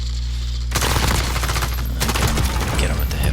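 Hip-fire gunshots in a first-person battle royale video game, a dense, continuous burst of rapid automatic shots at close range, loud and sustained for several seconds.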